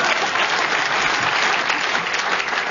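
The studio audience of the radio panel show Just A Minute claps, a dense, steady burst of applause filling the whole moment with no voices.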